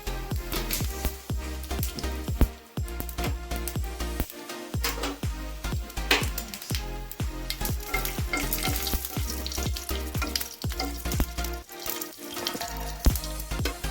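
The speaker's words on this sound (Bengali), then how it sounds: "1 টেবিল চামচ আমি তেল নিলাম, সাদা তেল। আমি এটার মধ্যে মৌরি ফোড়ন দিলাম।" Fennel seeds sizzling in a tablespoon of hot white cooking oil in a home kitchen, a dense continuous crackle and spatter with rapid popping bursts throughout, close and loud, with no one talking.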